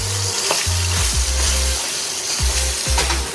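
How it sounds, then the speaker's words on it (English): Pork sears in hot oil in a wok over a Kamado Joe grill, a loud steady sizzle and crackle with occasional scraping and stirring sounds underneath. "we're going to just put the pork in and sear it off"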